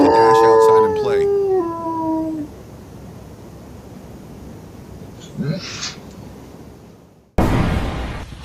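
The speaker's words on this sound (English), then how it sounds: "The dog's itching to dash outside and play." A dog howls loudly at the start, a long wavering rising-and-falling cry lasting about two seconds before fading, followed by quieter background and a sudden burst of noise near the end.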